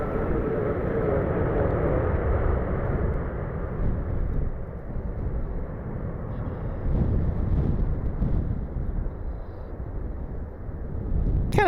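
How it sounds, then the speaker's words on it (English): An American Airlines Boeing 737 Max 8 jet lands in strong wind, heard as a steady, continuous roar of engine and wind buffeting that holds at a fairly even level throughout, with no talking. "It's American 1998, a Max 8 inbound from Chicago."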